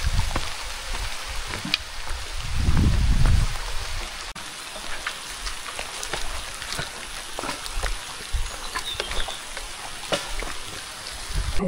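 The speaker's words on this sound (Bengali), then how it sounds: "আর এখনই বৃষ্টি শুরু হয়ে গেল।" Rain falling on a hill trek in Bandarban toward Kirstaung and Rungrang, a steady close patter of drops with a brief louder rumble early on and no voices.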